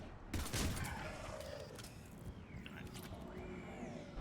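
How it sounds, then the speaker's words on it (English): Assault rifle gunfire in the video game Mass Effect 3: a quick burst of shots up front, then scattered fainter shots and mechanical whirs, fairly quiet overall. "Now we got a assault rifle"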